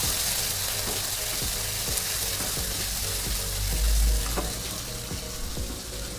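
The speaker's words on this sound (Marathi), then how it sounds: "याच्यामध्ये 1 चमचा जी आपली आलं लसूण पेस्ट आहे ती आपल्याला फोडणीत टाकायची आहे." Ginger garlic paste sizzles in hot oil with curry leaves for a paneer rassa tempering, giving a loud, continuous frying crackle with occasional stirring clicks against the pan.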